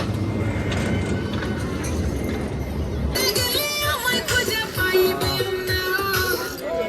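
A small fairground train ride running at a village fair, a continuous mechanical rumble and rattle joined partway through by bright, busy fair noise and tonal whines, fairly loud and close.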